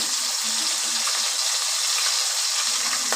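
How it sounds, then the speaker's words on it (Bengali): Lote fish sizzles and crackles in hot oil as it is flipped, a steady close-up frying hiss with a few sharper pops. "এক পিঠ ভাজা হয়ে এসছে এবার আমি উল্টে দিচ্ছি"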